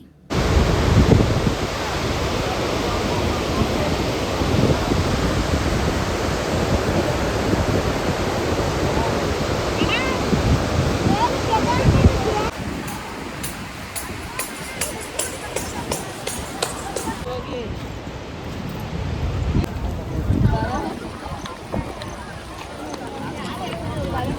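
Rushing water from the Gaganachukki and Barachukki waterfalls roars as a loud, steady broadband wash that eases and shifts partway through, with faint voices and small knocks under it.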